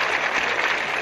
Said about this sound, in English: So many cheers going up